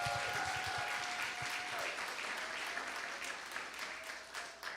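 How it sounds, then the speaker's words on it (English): Church congregation applauding the prayer ministry team, a steady, fairly quiet wash of many hands clapping throughout, with a few sustained tones and faint low thumps near the start. "Huge round of applause for prayer ministry."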